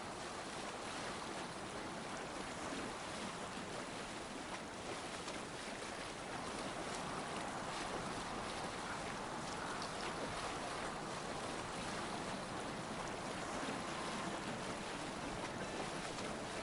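Rowing a Viking longship on open water in Assassin's Creed Valhalla, a steady wash of waves and splashing water with wind noise, continuous and fairly faint throughout, with no voices.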